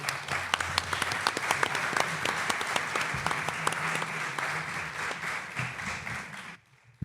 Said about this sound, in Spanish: Un aplauso para Maika, por favor.